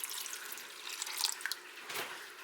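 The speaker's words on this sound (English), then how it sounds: "I'm going to add some water in." Water from a tap pours into a 1.5-quart crock pot of canned green beans in a steady, close, hissing stream, with a few drips and splashes and a slight swell near the end.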